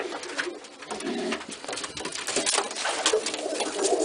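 Pigeons coo softly and repeatedly while brooding a pair of eggs, a close, low, continuous burbling with no voices over it.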